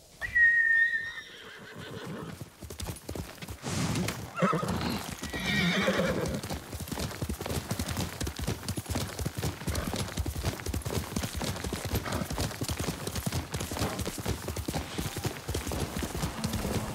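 A horse whinnies shrilly in the video game Ghost of Tsushima, then hooves clop in a fast, steady galloping rhythm that continues without a break.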